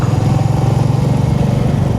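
A motorcycle on a steep downhill stretch of a morning ride toward Tamini Ghat gives a loud, close, steady engine drone with a pulsing low rumble throughout.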